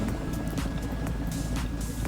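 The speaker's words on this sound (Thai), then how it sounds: "แต่ว่าซานาที่มันเป็นเรือเครื่องยนต์นะเรือเครื่องยนต์ก็เลย" A motorboat engine from the building game Trailmakers drones steadily, a rough, continuous hum with faint, repeated splashy bursts, and no speech over it.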